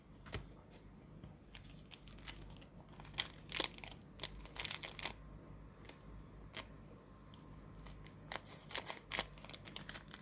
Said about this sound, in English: looks like I need scissors.